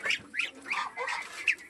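Chinese geese on a Bangladeshi farm honk in a series of short nasal calls, four or five close honks in quick succession with faint background noise.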